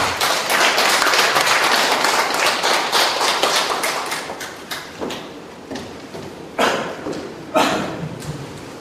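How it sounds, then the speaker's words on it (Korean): An audience at a Democratic Party lecture on the Seoul local elections applauds to welcome a speaker: dense, loud clapping that thins out after a few seconds into scattered, separate claps. "힘찬 박수로 맞이해 주시기 바랍니다"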